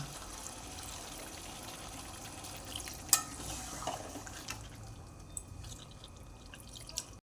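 Chicken kosha being stirred in a pan with water just added, giving a steady wet bubbling and dripping sizzle with a few sharper utensil clicks near the pan, no voices.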